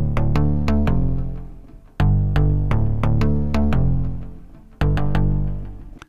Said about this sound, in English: If you wanted it totally clean, you could take it all the way out.